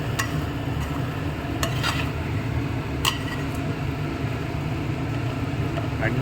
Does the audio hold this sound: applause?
no